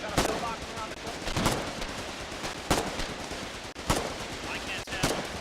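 Gunfire in a war video game, scattered loud shots and short bursts spaced irregularly over a constant noisy battlefield background, suggesting heavy machine gun fire at mid distance.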